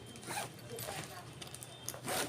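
A zipper is pulled open and closed on the pocket of a handmade ladies' handbag, a close, soft ripping rasp in a few strokes, with someone talking over it.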